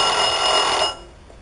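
A brand-new kitchen timer on a Vulcan three-deck pizza oven rings loudly and continuously with a bright, steady electronic bell tone, then cuts off abruptly after about a second.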